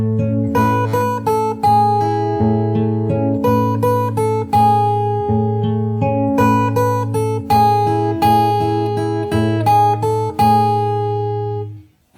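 Slow fingerstyle acoustic guitar playing a passage of a song, steady plucked notes and chords with a pulsing thumbed bass, close and clear, played alone without talk.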